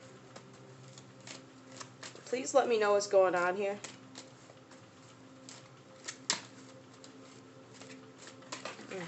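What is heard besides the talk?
shuffling tarot cards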